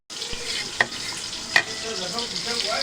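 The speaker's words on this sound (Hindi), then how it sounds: "प्याज जो है मैंने डाल दिया ऑयल गरम करके" Onion sizzling in hot oil in a home kitchen pan, a steady bright frying hiss with a couple of sharp spatters or utensil clinks.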